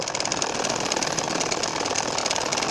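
A home sewing machine stitches a baby nakshi kantha quilt, producing a fast, even mechanical chatter of rapid needle strokes that runs continuously and close at moderate loudness.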